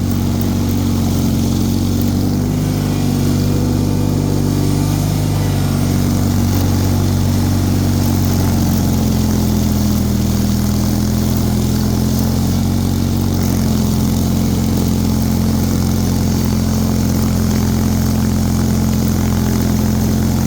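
Bolens HT23 garden tractor with a snow blower attachment churns through deep, heavy melting snow, its engine droning loud and steady throughout with a constant low mechanical roar and no voices.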